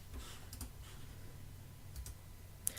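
A computer mouse clicking a Next button, heard as a few faint, isolated clicks spaced seconds apart over a low, steady background hum.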